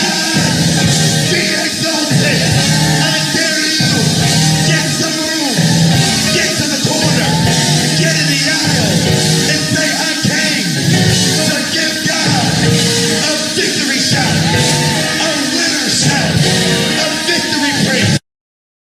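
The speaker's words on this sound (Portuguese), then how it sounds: "E fica uma gritaria na igreja." Loud, continuous crowd shouting and yelling in a church, a dense wall of voices filling the space steadily for the whole stretch before cutting off abruptly.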